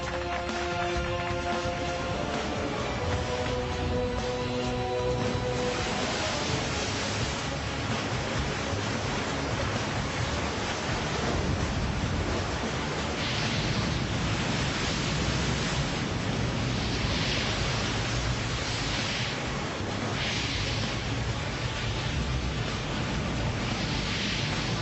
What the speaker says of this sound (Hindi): लहरें ऊंची होती जा रही, मुझे भी अपने कद को बढ़ाना होगा।